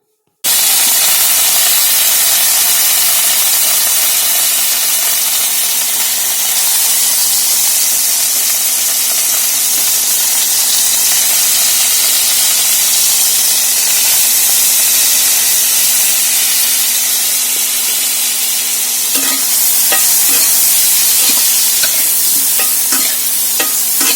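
Potatoes fry for a meat curry in a loud, continuous hissing sizzle. A steady hum runs underneath, and clusters of stirring clatter and scraping come near the end. No one speaks.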